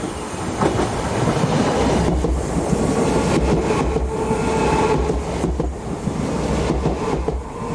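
A pair of Class Z23500 electric units passing on a European railway, loud close rumble with rhythmic clickety-clack of wheels over rail joints throughout.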